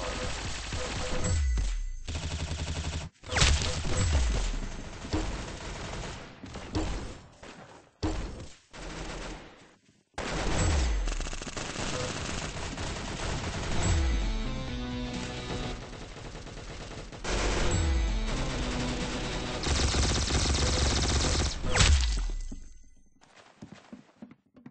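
Rapid gunfire in the Roblox game Arsenal during competitive gameplay, dense bursts of shots and fusillades with brief gaps, loud and continuous over game sound.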